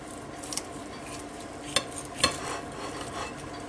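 A knife slices into a bacon-wrapped pork loin steadied with metal tongs, giving soft scraping and two sharp clicks of metal against metal, quiet and close, with no voices.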